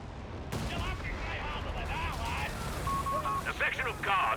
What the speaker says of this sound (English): Another zeroing artillery.